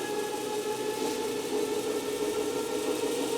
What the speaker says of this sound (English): This motor is receiving electric input.